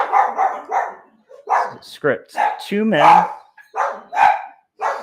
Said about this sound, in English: The dogs are all out and about checking stuff.